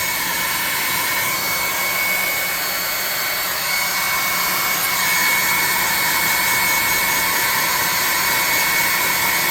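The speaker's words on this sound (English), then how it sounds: "Getting tired of hearing the airbrush, you can just kick that volume off and just kind of watch" An airbrush sprays paint onto a model alien stalagmite in one continuous, loud, close hiss with a bright airy rush that holds steady throughout without a break.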